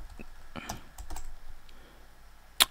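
Scattered keystrokes on a computer keyboard while demo text is entered into a product description field, a few soft taps spread out and ending in one sharper, louder click.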